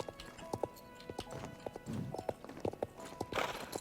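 Horse hooves clip-clop in a steady rhythm in the Star Stable horse-riding video game, with soft game ambience and a brief whinny-like burst near the end.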